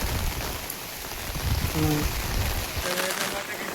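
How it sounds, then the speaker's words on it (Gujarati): Steady monsoon rain pattering on a surface at Girnar, a continuous hiss with a brief faint voice in the background. "ફાઇનલી જો વરસાદ આવી રહ્યો છે"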